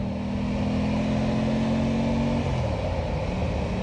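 A 2025 Aprilia Tuono 660 Factory motorcycle engine runs on its stock exhaust, holding a steady throaty rev before the pitch drops and settles near the end.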